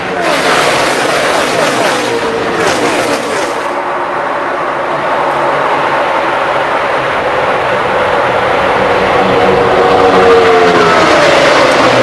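NASCAR stock cars race at Talladega during the 2012 Good Sam Roadside Assistance 500, a loud, continuous roar of many engines with a pitch that sweeps as cars pass close by near the end.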